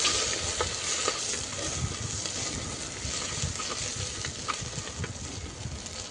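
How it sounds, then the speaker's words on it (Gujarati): Green chillies being stirred into a pan of green pigeon pea kadhi, a steady broadband sizzle and bubbling with occasional soft spoon scrapes, continuous and close, no talking. "અને હવે લીલા મરચાં સારી રીતે મિક્સ કરી લેવાનું"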